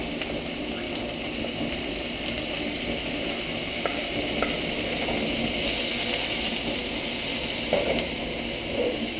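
A steady, dense sizzle of olive oil heating in a pan fills the clip, with occasional light pops and clinks.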